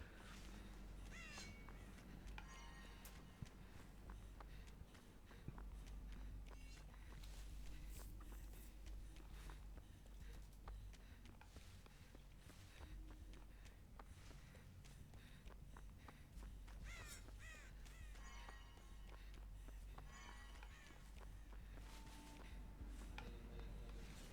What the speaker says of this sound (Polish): Parę kruków chciałbym wystraszyć.